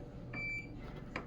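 A Samsung refrigerator gives a thin, faint electronic beep, then a second short one, while its icemaker defrosts, over a low background hum.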